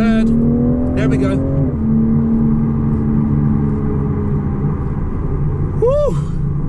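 A Toyota GR Supra's 3.0L turbo engine drones steadily from inside the cabin while driving, its pitch dropping as it downshifts from fourth to third, with a brief rev blip near the end.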